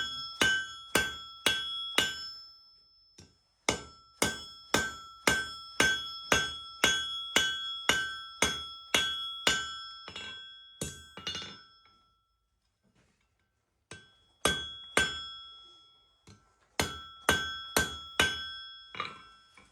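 Sharp metallic blacksmith hammer strikes on a sharp-edged piece of metal ring out in fast, steady bursts, with a brief pause midway and another short gap before the pounding resumes, close and loud.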